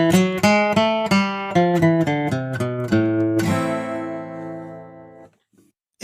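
A melodic minor scale played note by note up and then back down on a pitched instrument, steady even steps ending on a long ringing final tone that fades out, with no speech.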